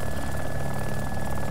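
A helicopter in the video game DayZ Epoch whirs with a steady, loud rotor and engine drone that holds evenly throughout.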